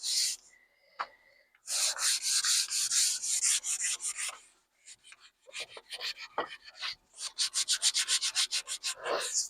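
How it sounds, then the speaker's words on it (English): Sandpaper rubbed up and down a fireman's wooden axe handle, in bursts of close, scratchy strokes separated by short pauses. "Just grab the sandpaper however you want, whatever feels comfortable for you, and just go up and down the axe handle all over."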